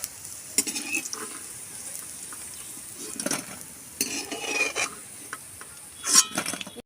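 Green pea pakoras fry quietly in oil with a soft sizzle. Intermittent scrapes and clinks of a utensil against the pan break in now and then, louder near the end.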